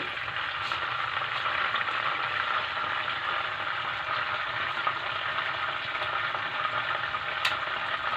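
Mushrooms frying in a pan for a creamy tuna carbonara, a steady, dense sizzle that holds evenly throughout with faint stirring clicks, no voices.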